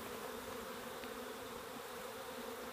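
Honey bees buzz steadily in an open hive's brood nest, a dense, constant close-up hum with no voices.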